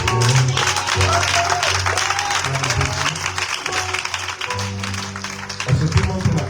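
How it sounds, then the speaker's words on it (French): A church congregation applauding and acclaiming the Lord during a midweek worship service: sustained clapping that runs throughout, mixed with held musical tones and a voice speaking over it. "On acclame fortement le Seigneur."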